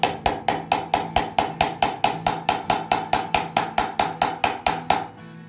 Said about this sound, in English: line up a socket that's about the same size and use a brass hammer